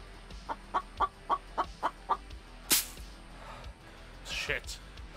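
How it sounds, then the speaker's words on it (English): Clucking chicken in a survival video game, a series of seven evenly spaced clucks, fairly close and clear, followed by a sharp burst and some louder game noise near the end. "I hear a chicken."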